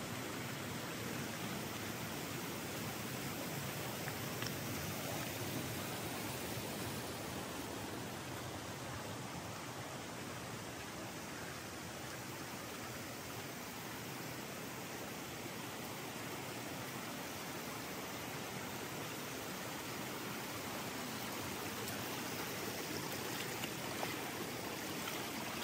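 Steady, dense rush of creek water flowing, a constant broadband hiss without breaks or change across the whole stretch, no voices.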